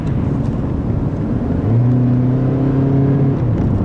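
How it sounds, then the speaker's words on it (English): A 2013 Honda Civic accelerates on a test drive, a steady cabin drone rising in pitch and growing louder as the engine downshifts and revs up midway, heard from inside the car. "This one, you can actually just put your foot down and actually does downshift pretty well for you."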